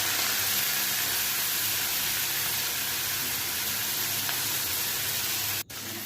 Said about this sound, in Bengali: এবার কুচো চিংড়িগুলোকে ভেজে নিতে হবে।